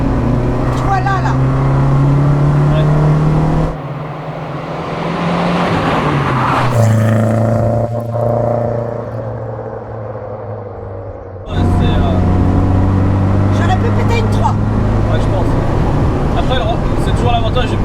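A Renault 5 GT Turbo's small turbocharged engine pulls hard through corners, a loud, steady rumble that dips and rises with the throttle, with people talking in the car over it.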